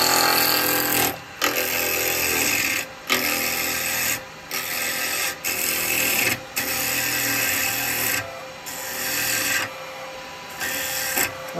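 A spindle gouge cuts a small wooden pickle bowl spinning on a lathe, making a loud, close, scraping hiss in repeated bursts of a second or two, separated by short pauses.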